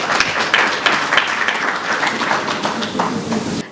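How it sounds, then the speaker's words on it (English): Audience applause for a speaker at a business session on East African tech, finance and agriculture opportunities, a steady crowd of clapping hands lasting several seconds at moderate loudness before cutting off abruptly. "a round of applause to her"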